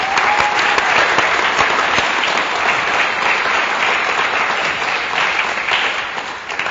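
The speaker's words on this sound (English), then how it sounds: "So that right there deserves a little applause." Steady, full applause from a large crowd at a graduation celebration for a summer careers academy in Orange County, sustained at even loudness from start to finish.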